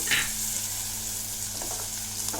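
Cauliflower and potato for Sindhi-style gobi masala cook in a pan over a low gas flame, a steady close sizzle and hiss of frying with a low hum underneath and no talk.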